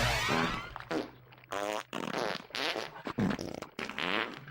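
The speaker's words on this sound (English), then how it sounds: "then farts, some absolutely grotesque, start being incorporated into the music." Loud, grotesque farts worked into the music of a Simpsons song, a series of long, buzzing, pitched blasts with short gaps between them, played alone.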